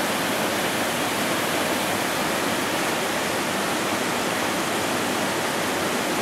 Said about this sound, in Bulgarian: Това е малко по-близо до водопадите.